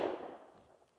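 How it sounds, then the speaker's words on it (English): A single rifle gunshot from hunters somewhere up in the countryside along a trail, a brief sharp crack followed by a fading echoing tail, faint and alone. "That is the sound of a rifle, I believe."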